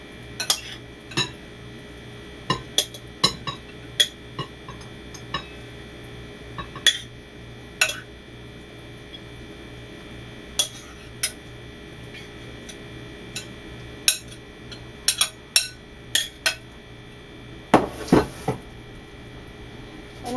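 Kale and avocado salad spooned into a bowl with metal utensils, bringing scattered clinks and scrapes of cutlery against dishware at an uneven pace, with a denser clatter near the end over a low steady background hum.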